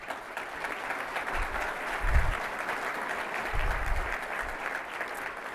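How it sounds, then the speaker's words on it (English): Audience applause at a State of the City 2025 address in Livonia, a sustained wash of clapping from a large crowd with no talk over it, swelling slightly midway. "that deserves your round of applause"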